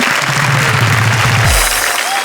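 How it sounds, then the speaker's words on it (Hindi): Audience applause welcoming a poet on stage at a televised Hindi poetry recital, a dense burst of clapping that dies away after about a second and a half. "हम जोरदार तालियों से स्वागत करें।"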